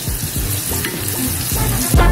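Pork liver pieces frying in hot oil give a steady, close crackling sizzle with bursts of spattering, which grows louder near the end as more pieces go in.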